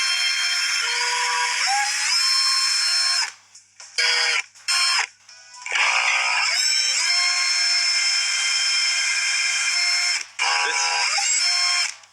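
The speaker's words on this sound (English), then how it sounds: "the drill is getting really hot while drilling" A high-pitched electric drill in the video game Among Us whines loudly and steadily, stopping and restarting several times in short bursts with brief gaps of quiet between.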